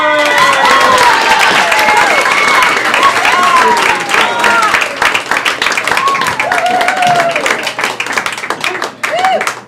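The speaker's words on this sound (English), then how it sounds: "Put your hands together for John Ordover!" A comedy club audience claps and cheers loudly as a comedian is introduced. Dense, steady applause with whoops rises over a voice at the mic and then thins out near the end.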